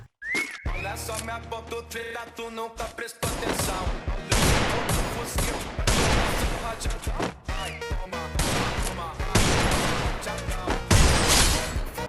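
Gunfire in a fight in a shooting video game: rapid bursts of shots crowd the scene, with whistling and game sounds at the start and loud repeated volleys continuing to the end, with no talk.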